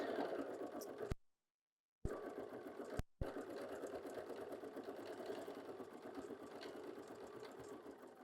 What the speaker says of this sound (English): I'm going to push the button here to have it stitch out my little leaves